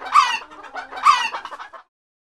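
A hen clucks in two bursts of rapid, rising calls, close and fairly loud, with silence after, accompanying a children's counting rhyme.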